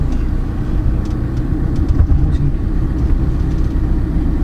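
A 2018 Tata Xenon 4WD pickup being driven, its engine and road noise forming a steady, loud low rumble heard from inside the cab throughout, with no talking.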